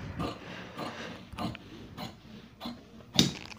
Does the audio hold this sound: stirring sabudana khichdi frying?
no